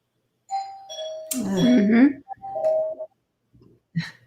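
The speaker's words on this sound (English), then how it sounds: "Do you guys hear the doorbell?" A doorbell chime sounds indoors as a clear ding-dong of sustained tones, with a softer repeat moments later, while people talk over and between the chimes.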